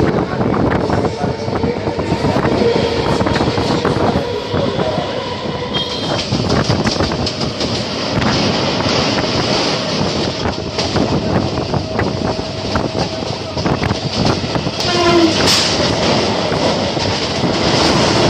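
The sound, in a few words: local train running, Sealdah to Badkulla line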